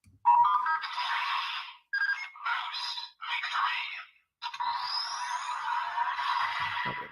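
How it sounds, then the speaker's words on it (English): A Kamen Rider Spider Phone toy plays its ringtone, a bright electronic tune in several short bursts with brief gaps, then a longer sustained passage, heard close and moderately loud with no talking. "All right, I got the spider phone."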